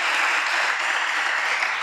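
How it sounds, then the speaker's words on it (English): An audience applauding, a steady dense wash of many hands clapping together, loud and unbroken throughout with no voices standing out. "could we just give her a round of applause"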